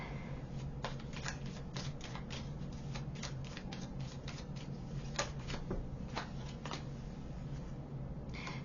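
Tarot cards shuffled and drawn during a pick-a-card reading, heard close as a steady run of crisp, irregular flicks and papery snaps over a constant low background hum, with no talking.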